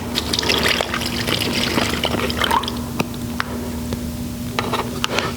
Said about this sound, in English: we're going to pour it into that same bag with the sugar and the vanilla